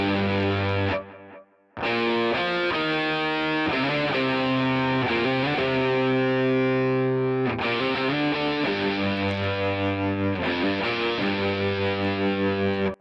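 Heavily driven electric guitar playing a riff, colored by a smooth sine-wave modulation effect, loud and sustained with a brief gap near the start, no voices.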